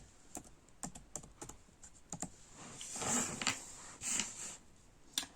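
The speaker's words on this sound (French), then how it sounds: "moi, là, je vais taper fleurs" Quiet clicks of a computer keyboard as a short word is typed, scattered keystrokes followed by a quicker burst of taps, close and faint, with no voices.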